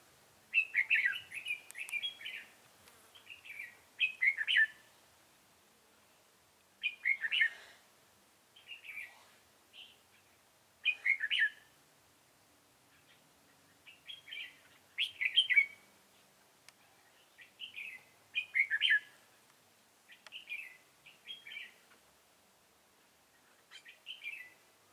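Red-whiskered bulbuls chirp at a bird trap in short, bright bursts of several notes, repeating every second or two against otherwise quiet surroundings, fairly close and clear.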